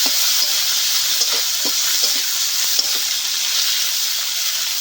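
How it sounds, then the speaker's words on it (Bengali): Chopped onion and tomato frying in a pan for a cabbage and prawn dish, a loud, steady hissing sizzle with occasional light stirring knocks throughout, no voices. "টমেটো কুচে রেখেছি দিয়ে দেব, একটু ভালো করে নেড়ে নেব"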